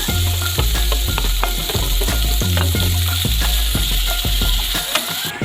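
Onions and tomatoes frying loudly in a pan, with a steady sizzle broken by regular clanking stirs of a utensil against the pan throughout.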